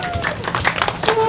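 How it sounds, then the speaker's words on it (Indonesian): An audience claps for a contestant at an impromptu stage event, with brisk, scattered claps mixed with voices and some tonal sounds, fairly loud throughout. "Tepuk tangannya untuk si AA yang baju putih."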